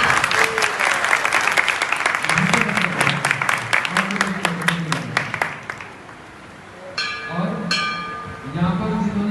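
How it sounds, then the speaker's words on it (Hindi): A crowd claps steadily for several seconds at a Ratha Yatra gathering in New Delhi, fading out, with voices heard alongside and a few electronic tones near the end. "हम लोग ताली बजाकर स्वागत करते हैं"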